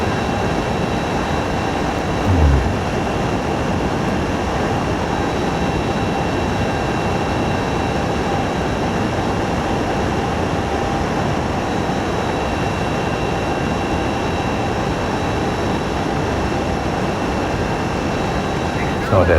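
Darkstar hypersonic stealth aircraft in flight in Microsoft Flight Simulator 2020 on Xbox Series X, a loud, steady engine roar that holds without a break, with someone talking over it.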